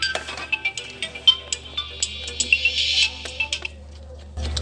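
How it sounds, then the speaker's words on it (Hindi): A mobile phone ringtone chiming a repeated melodic pattern during diagnosis of a ringer fault on a repair bench, tinny and close, with a low steady hum underneath, stopping near the end. "देखिए ये रिंगटोन हमारी बज रही है"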